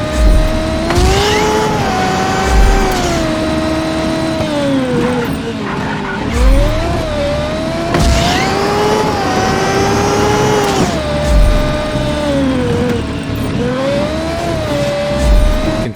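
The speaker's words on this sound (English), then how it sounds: "It's an F1 car. This is not gonna be easy." An F1 car driven in the video game Just Cause 3 screams along at high revs. Its loud, steady engine whine dips and climbs through repeated gear or throttle changes, with bursts of tyre skidding and no talk.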